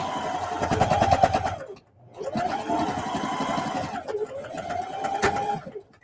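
A sewing machine runs in three sustained bursts of rapid, buzzing stitching with brief pauses between, sewing half-inch seams over the straps of a lunch tote bag; loud and close, with no talking.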